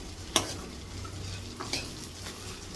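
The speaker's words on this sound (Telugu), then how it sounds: "బెండకాయ బూందీ ఫ్రై ఒక్క సెకండ్ నుంచి తీసేద్దాం" Okra boondi frying in oil, a faint steady sizzle with one sharp metal clink near the start and a few softer scrapes later, quiet and close with no voices.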